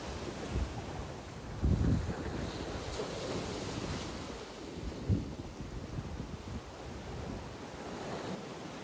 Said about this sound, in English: We spent the day watching waves crash against the cliffs